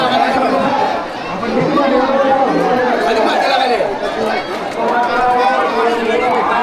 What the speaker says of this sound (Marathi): बघा गर्दी इतकी गर्दी आहे की काय सांगू शकत नाही